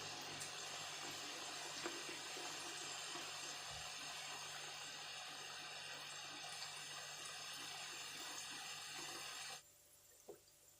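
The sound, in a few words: shakarpara dough pieces frying in oil on low flame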